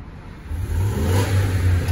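A diesel truck engine idles nearby in a garage, a low steady rumble that rises slightly and then holds, with no talking over it.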